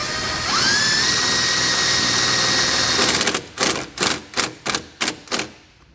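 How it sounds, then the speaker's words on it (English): Self-tapping screws being driven into a car's radiator core support with a 5/16 nut driver on a power tool: a whining motor spin-up, then six rapid ratcheting bursts, loud and close. "we'll take our self-tapping screws and a 5/16 nut driver"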